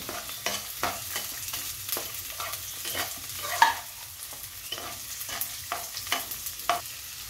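Chopped carrots and peas frying for fried rice, a spatula scraping and tossing them in a pan in a steady rhythm of regular strokes over a soft sizzle, close and moderately quiet.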